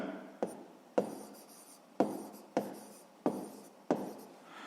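A pen writing by hand on paper during a sixth-grade maths exercise: six short, evenly spaced scratchy strokes, each a crisp onset fading quickly, quiet and close with no talking.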